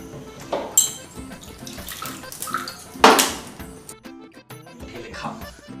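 Alcoholic drink being poured at home, short splashing bursts of liquid mixed with clinks of glassware and dishes, close and intermittent, with people talking in the background.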